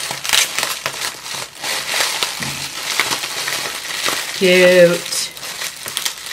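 A heavily taped mail package from a friend is torn open, with crinkling, crunching tape and cardboard in irregular bursts up close, and a brief voice speaks partway through.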